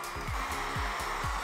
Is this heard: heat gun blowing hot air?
yes